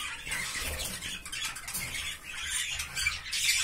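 Albino bird chicks squawking and chirping in a cage, a busy stream of high, scratchy calls and faint wing flutters, fairly close and fairly quiet, with no voices.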